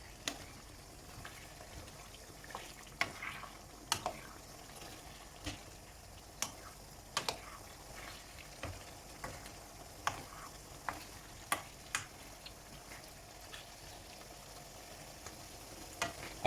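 Beef coconut curry with potato and carrot being stirred in a pan: a soft continuous sizzle carries scattered scraping clicks of the utensil at an irregular pace, with no voices.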